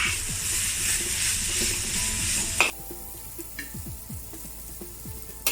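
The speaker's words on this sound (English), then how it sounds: "Have a quick flash fry over high heat for about 20 seconds." Beef with cumin flash-fried over high heat for Hunan cumin beef, a loud continuous sizzle with stirring scrapes that cuts off abruptly, leaving a quieter hiss and a few utensil knocks.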